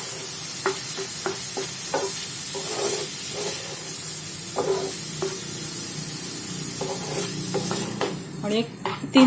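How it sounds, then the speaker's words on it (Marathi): Tomatoes with a little salt sauté in a pan for pav bhaji, giving off a loud, steady hiss and sizzle. Intermittent scraping stir strokes cut through it, and the clattering grows busier near the end. "ते चार मिनिटं ह्याला व्यवस्थित परतून घ्यायचं आहे"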